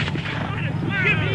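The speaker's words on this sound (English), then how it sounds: "A Tory shot at him." Musket gunshot from a Revolutionary War battle scene at Bennington, a short heavy crack and booming report with echoing rumble, loud and close, with a voice over it.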